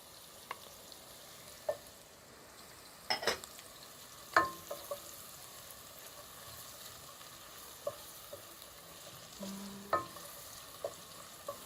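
Rice with carrots and green beans is stirred in a pan, with a soft frying hiss under scattered scrapes and knocks of the spoon against the pan, quiet and close with no talk.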